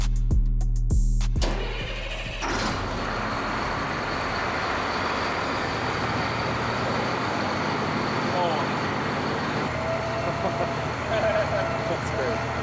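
MRAP armored vehicle being converted into a bug-out vehicle, its heavy engine cranking with a few sharp starter bursts before settling into a loud rumbling idle, while people talk nearby.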